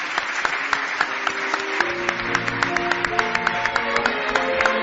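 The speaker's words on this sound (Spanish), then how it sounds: "Un aplauso, por favor, para Joaquín de Diego." Studio audience applauding guest Joaquín de Diego on a Spanish paranormal radio show, with a steady wash of clapping and sharp individual claps standing out close by.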